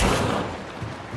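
Gunfire in the video game Hunt: Showdown, a loud close burst at the start that fades into a rumbling tail over about a second, heard alone.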